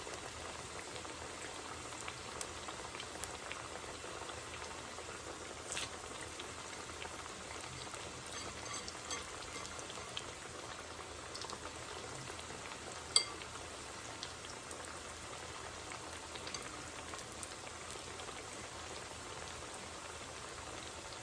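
Kenyan maru bhajiya deep frying in hot oil during the second fry, a faint, steady bubbling hiss with scattered small pops, no talk.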